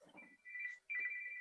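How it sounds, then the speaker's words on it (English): A telephone rings in two faint, steady electronic tone bursts separated by a brief gap, with a trace of voice at the very start. "Sorry about the phone."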